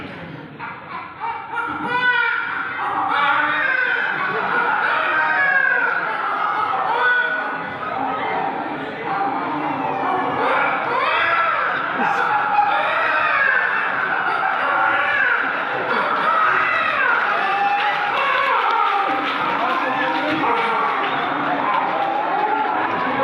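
A poet on stage vocally imitates a little girl crying, a continuous wailing, sobbing voice held close and loud throughout, with no other sounds beneath it.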